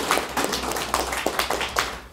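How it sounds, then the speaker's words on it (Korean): A church congregation claps for a choir member, giving a short, moderately loud burst of scattered hand claps with an uneven rhythm. "박수 한번 쳐주세요"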